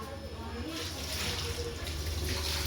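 Tap water runs steadily from a faucet in a household setting, a continuous close rushing splash that swells slightly, with a person talking over it.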